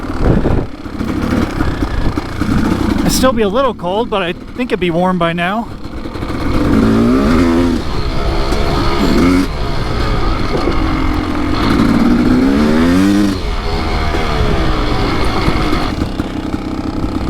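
A Kawasaki KX dirt bike engine runs rough and slightly gunked up on a mountain single track trail, revving and wavering close by, with someone talking over it at times.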